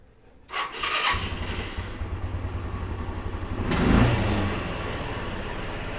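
A 1993 Yamaha Riva 125 scooter, also sold as the Beluga, cranks and catches, then settles into a buzzing small-engine idle before a brief rev swells and fades back to running.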